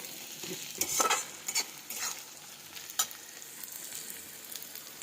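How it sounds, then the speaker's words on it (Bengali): Onion, garlic and green chilli fry in a pan, making a quiet, steady sizzle. Close stirring scrapes and clatters burst through it, most strongly in the first three seconds. "পেঁয়াজ, রসুন, কাঁচা লঙ্কা সব ভাজা করছি।"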